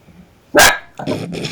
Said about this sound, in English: Sorry, they're barking.